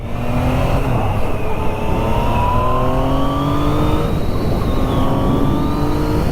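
Yamaha FZ-09 motorcycle engine revving hard and accelerating up through the rev range, a loud, close, steady roar that climbs in pitch, dips with a shift, then climbs again, with no voices.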